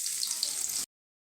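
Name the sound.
frying shallots in oil for garnish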